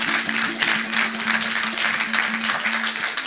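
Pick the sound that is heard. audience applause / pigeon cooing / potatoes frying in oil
audience applause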